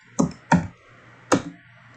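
Three crisp key taps on a computer keyboard while a command is typed, close and distinct, spaced unevenly over two seconds in a quiet room.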